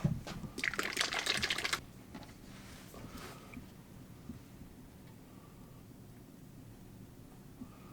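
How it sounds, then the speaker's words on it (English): Liquid colorant squeezed and stirred into a soft plastic fishing bait mix, with a brief burst of crackling, dripping and clicking at the start that fades into a low, quiet hum. "Now we're going to add some colorant."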